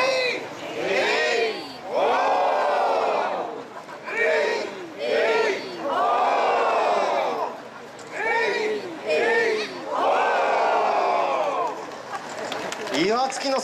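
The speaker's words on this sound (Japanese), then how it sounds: "岩月の空、声高らかに勝ち時を上げていただきました。" A festival crowd in Iwatsuki, Saitama, raises repeated kachidoki victory cries, several loud drawn-out rising shouts in unison separated by short pauses, with chatter and a leader's calls between them.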